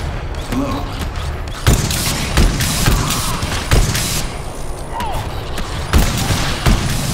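Gunfire in GTFO, sharp repeated shots cracking out at irregular intervals over a busy, noisy game background, while players talk throughout.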